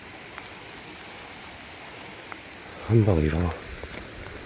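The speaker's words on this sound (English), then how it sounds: "I knew it wouldn't take long for the rain to come on" Rain setting in on the mountain at Buachaille Etive Beag, heard as a steady soft hiss throughout, with a single brief spoken word partway through.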